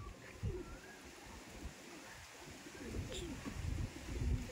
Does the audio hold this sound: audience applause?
no